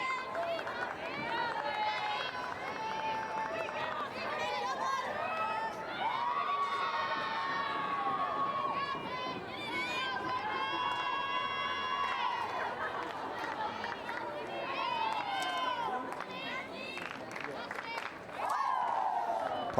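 A softball crowd cheers and shouts to rally the Lopes during an inning against Oklahoma, a steady roar of voices and children's yells under continuous play-by-play commentary.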